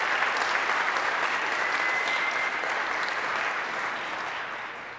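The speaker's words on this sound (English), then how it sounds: "Can we get a round of applause for all you out there as well?" Dense, steady applause from a concert audience at a Christmas performance by a university a cappella choir, sustained for several seconds and gradually fading, with no talk over it.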